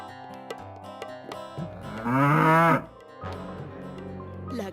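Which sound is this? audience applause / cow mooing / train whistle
cow mooing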